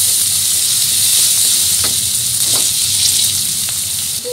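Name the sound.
frying chopped onion in oil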